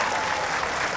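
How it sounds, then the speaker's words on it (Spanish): An audience claps at a senior citizens' closing ceremony, a brief, dense burst of steady applause filling the room. "a ver el aplauso pues para Luz Dari"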